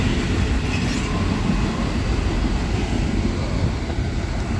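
A Norfolk Southern freight train, symbol 268 led by locomotive 4547, rolls past close by in Homestead, Pennsylvania, its heavy steady rumble and rail noise continuous and loud throughout with no voices.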